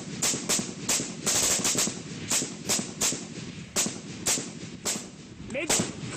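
Military gunfire from a firefight in Helmand, Afghanistan: loud, close shots crack in an irregular rapid series over a steady outdoor rumble, with voices talking beneath.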